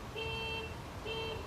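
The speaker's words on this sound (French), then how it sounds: "excusez-moi, il y a une alarme." An electronic alarm sounds indoors in two identical beeping tones about a second apart, moderately loud against a quiet background.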